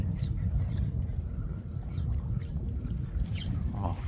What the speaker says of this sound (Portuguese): O vento tá bem forte.